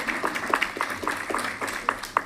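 A council meeting audience applauds, with scattered, moderately close hand claps forming a light, uneven round that continues steadily throughout.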